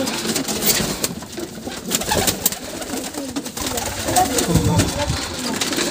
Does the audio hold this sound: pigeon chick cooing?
yes